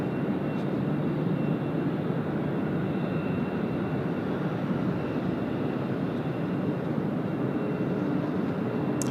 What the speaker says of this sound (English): China Eastern now rolling runway 34 left